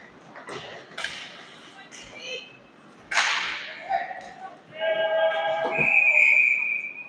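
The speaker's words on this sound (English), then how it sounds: "We'll have another whistle right now. Stoppage of play." A referee's whistle blows at a college ACHA ice hockey game between Bridgewater State and Southern New Hampshire, a sustained shrill tone in the last couple of seconds, rising over arena noise and sharp impact sounds from the ice.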